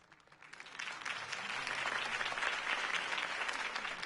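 A crowd in the video game Batman: The Telltale Series breaks into applause that swells from quiet to a sustained, dense clapping, heard at a moderate distance.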